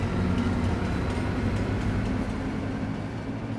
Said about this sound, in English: if we swap over to our train, and then if we just go into reverse